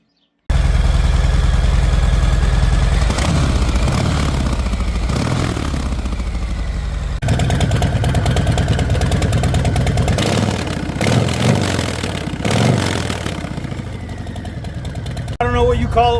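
A Harley motorcycle with shorty mufflers idles with a deep, loud lumpy rumble, then revs up several times in short throttle blasts before settling back, the engine close and dominant throughout.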